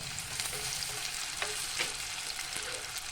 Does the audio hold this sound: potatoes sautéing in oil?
yes